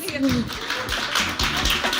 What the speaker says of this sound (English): Round for applause